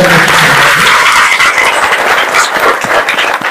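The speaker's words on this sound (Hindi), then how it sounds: "और एक बार जोरदार तालियां।" A crowd at a religious satsang gathering in Porsa breaks into loud, sustained applause, a dense wash of clapping that stays strong throughout.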